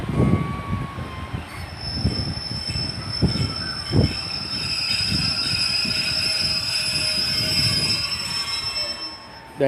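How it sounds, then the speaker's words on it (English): A Pacer diesel train rolls through Exeter St Davids station with rumbling wheels, clunks over the points and a long, sustained high wheel squeal, loud and near throughout. "There's the ugly sounds of a pacer, and just before you may have heard the sound of the points changing"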